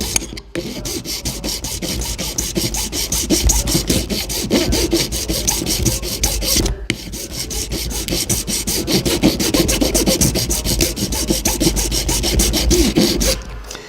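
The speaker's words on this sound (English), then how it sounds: "I'm gonna use my heavy file for that" A heavy file rasps a wooden timber game call insert in quick, regular back-and-forth strokes, loud and close, with two brief pauses between runs of filing.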